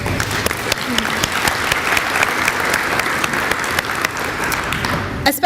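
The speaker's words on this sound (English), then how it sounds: "A big round of applause for all of our sponsors." Audience at a Bellevue Chamber of Commerce annual update luncheon clapping for sponsors, a dense sustained round of applause, loud and steady throughout, without voices.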